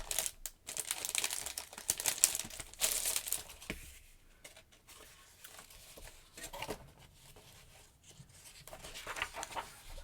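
Sheets from a pack of Mesa 8x10 paper being handled, with crinkling, rustling and brushing sounds coming in uneven bursts, close and fairly quiet, with no talking.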